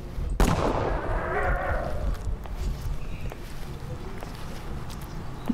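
A gunshot in the video game Salatroitsk Incident: a single loud, sharp blast near the start, then a fading rumble and quieter game ambience.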